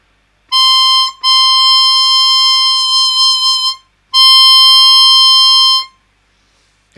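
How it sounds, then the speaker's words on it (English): Chromatic harmonica playing hole 9, a loud, pure high note sustained alone, broken by a short gap and then held again for a few seconds before stopping. "I'm going to play hole 9."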